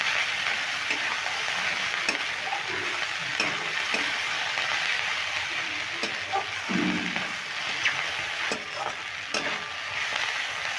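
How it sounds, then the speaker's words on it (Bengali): Potato and onion stalks stir-fry in a pan, sizzling steadily and close, with the scrape and clatter of a utensil stirring at irregular intervals. "এইভাবে নেড়ে করে আমি ভালো করে ভেজে নেব"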